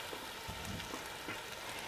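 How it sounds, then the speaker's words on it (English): Pureed vegetables sizzle in olive oil in a pot, a soft, even crackle with faint popping, quiet and close, with no talk over it. "I got a nice little sizzle going here."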